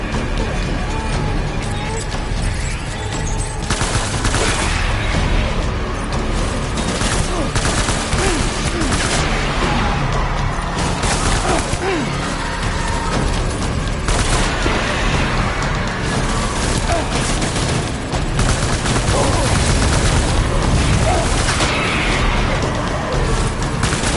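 Dense, loud gunfire from the video game Death Stranding rattles continuously in overlapping bursts and booms, with voices calling out over the shooting.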